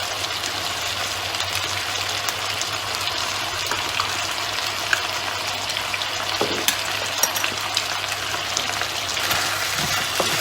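Pork frying in a pan seasoned with five-spice powder, a steady close sizzle with scraping stir strokes throughout and no talking.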